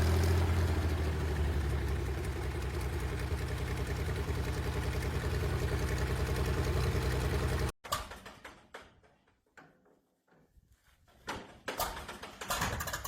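An antique piston aircraft engine with dual magneto ignition runs loud and steady for about eight seconds, a dense continuous drone, then cuts off abruptly to quieter, scattered sounds.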